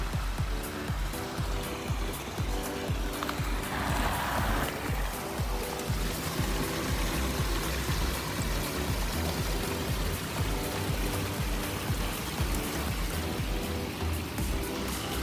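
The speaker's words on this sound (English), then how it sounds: "So just the water is constantly cycling and just gives the sound and the feeling of a" A pumped garden water feature at a garden center in Toano, Virginia, splashes and babbles continuously like a brook, a steady close trickle and patter with no voices.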